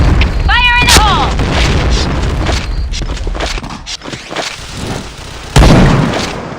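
A booming grenade explosion in a shooting video game, heavy and loud, with gunfire pops and mechanical clicks around it and a second strong blast near the end while a player shouts over the action.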